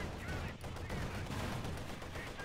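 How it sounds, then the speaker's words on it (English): Dense, faint gunfire and artillery fire rumble continuously in a Company of Heroes 2 battle, a low booming barrage with overlapping shots and no pauses. "Heavy artillery fire there unleashed."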